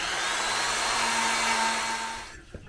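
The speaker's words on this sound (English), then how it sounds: "I'm just going to try to buff it a little bit." A power tool whirs steadily while buffing a small plastic mount piece, a sustained close motor drone with a faint tonal whine that cuts off near the end and is followed by a brief knock.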